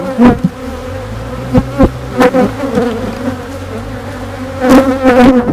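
Honey bee colony buzzing loudly and close during a beehive inspection, a dense continuous drone with individual bees zipping past the microphone in sharp swells.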